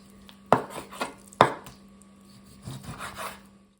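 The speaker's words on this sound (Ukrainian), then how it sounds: "Для початку будемо нарізати м'ясо." Knife chopping about 200 grams of pork on a board for Ukrainian borscht: two sharp, loud strikes followed by several softer cuts and scraping, close and alone over a steady low hum.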